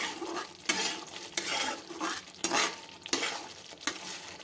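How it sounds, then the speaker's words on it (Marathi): Masala for matar paneer is stirred in a pan over high flame, rhythmic scraping strokes roughly every second over a continuous sizzle, close and fairly loud, with no talking. "आता हे असंच आपल्याला मिक्स करून घ्यायचं आहे"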